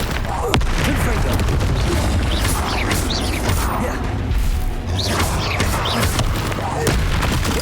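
Confringo fire spell explosions in Hogwarts Legacy boom and crash repeatedly amid dense, clattering combat noise, loud and continuous, with voices mixed in.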